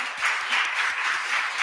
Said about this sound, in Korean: 우리 목사님께 한번 뜨거운 영광의 박수 바랍니다